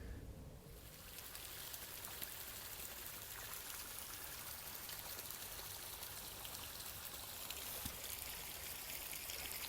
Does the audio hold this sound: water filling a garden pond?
yes